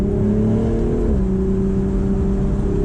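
A 2023 BMW Z4 M40i rear-drive roadster with a 382-horsepower twin-turbo inline-six and 8-speed automatic, heard as a steady engine drone inside the cabin, with one audible shift as the pitch drops and settles, under a constant rush of wind.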